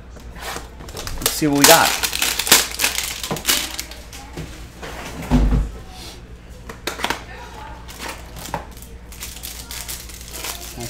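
A box of Optic football trading cards is torn and pried open up close, with crinkling, tearing and cardboard handling sounds in bursts while someone talks over it.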